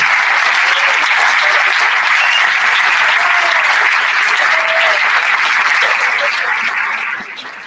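Loud, dense applause from a crowd at the close of a meeting with young people, sustained evenly and then tapering off near the end, with no voices over it.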